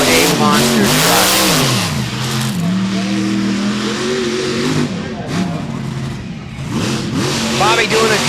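The Lucas Oil Stabilizer monster truck revs its engine in a roaring, surging drone at an arena event, running under continuous loud announcer commentary.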